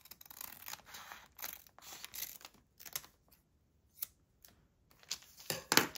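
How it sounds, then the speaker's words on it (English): Scissors snip through paper for a junk journal pocket, a series of short crisp cuts with small gaps between them, near and fairly quiet, no voices. "I am going to cut this one"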